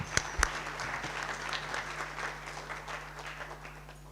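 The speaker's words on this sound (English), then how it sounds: "Can we please give him a round of applause as he's coming?" An audience at a panel discussion on the Freedom Charter at 70 claps for an arriving speaker, a fairly soft, moderately distant rattle of many hands that opens with a couple of sharp near claps and gradually tapers off.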